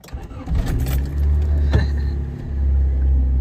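A Honda CRX that has sat unstarted for a month cranks and catches, settling into a loud, close, rumbling idle with some rattling at the start.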